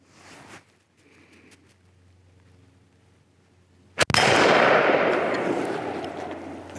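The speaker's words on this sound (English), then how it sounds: "We'll just shoot that closer target." A straight-pull Mauser 98 rifle fires a single sharp, loud shot after a quiet stretch, the report ringing out and slowly decaying.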